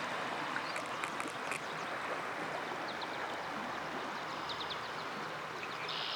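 A swollen, high-running river flows continuously past bushes in a flooded valley along a trail, a steady broadband rush that stays fairly quiet throughout, with a few faint bird chirps.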